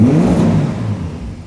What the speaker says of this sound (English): hopefully you can hear that the engine, there's no piston rattling at all